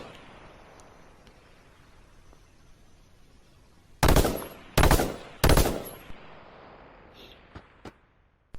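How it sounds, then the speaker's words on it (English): Three loud, sharp shots from the Wild-Style Marauder scoped assault rifle in H1Z1 crack in quick succession after a quiet stretch, followed by faint distant pops. "The Wild-Style Marauder is a scoped assault rifle."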